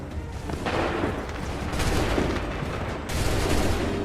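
Massed musket volley from a line of soldiers in Assassin's Creed III, a loud, dense crackle of overlapping shots that swells and then breaks into a second heavy burst near the end.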